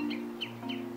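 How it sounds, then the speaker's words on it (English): Birds chirping in the ambient world of the video game Helldivers 2: a few short, high, falling chirps spaced about a beat apart over a steady low hum, faint and in the background. "you can hear the birds chirping."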